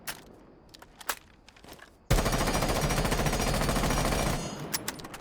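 A rifle fitted with a compensator in Rainbow Six Siege unleashes a loud, close full-auto burst of rapid, evenly spaced shots lasting over two seconds, following some quieter footsteps and clicks, then tapering to soft handling noises.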